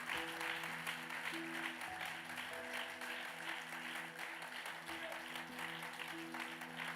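A church congregation gives God a strong offering of applause during a pastor's sermon, a sustained wash of clapping with sustained musical tones and voices mixed in underneath.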